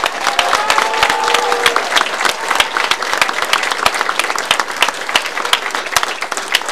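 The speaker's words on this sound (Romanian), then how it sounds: "Să-i aplaudăm!" A large audience applauds at a welcoming ceremony for the Republic of Moldova's Olympic team, dense steady clapping filling the whole stretch, loud and close with a few faint voices mixed in.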